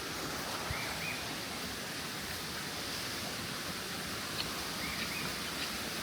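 Waterfall cascade on Lombok island, Indonesia: a steady, dense roar of falling water fills the whole stretch evenly without pause, with faint bird chirps briefly surfacing above it and no voices.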